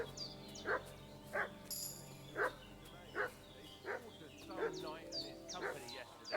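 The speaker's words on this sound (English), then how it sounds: "What's that dog making such a fuss about?" A dog barks in a medieval village setting in Kingdom Come: Deliverance 2, several short barks spaced at an uneven rhythm, moderately near, under ongoing talk and ambient game sound.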